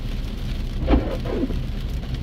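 Steady rain falls and patters on the ground and a vehicle outside, a constant broadband hiss with a faint low rumble underneath and no voices.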